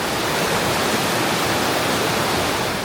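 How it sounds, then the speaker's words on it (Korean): Robson River rushing hard beneath a wooden bridge on a forest trail near Mount Robson, a steady, loud, broadband roar of fast water that holds constant throughout with no voices. "다리 아래로 세차게 흐르는 물줄기는 롭슨 강입니다"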